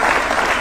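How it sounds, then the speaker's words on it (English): Audience applause for His Excellency at a State House speech launch event in Kenya, a dense, steady clapping that fills the short moment from start to end. "Another round of applause for His Excellency."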